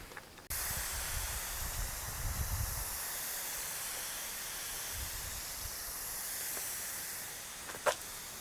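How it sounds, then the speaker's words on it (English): A pressure sprayer of cleaning solution is pumped up, giving a steady close hiss that starts abruptly, with low pumping thumps near the start and again midway, then a brief sharp click near the end. "I'm going to pump up our solution here in our sprayer"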